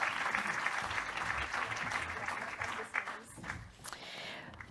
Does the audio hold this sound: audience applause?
yes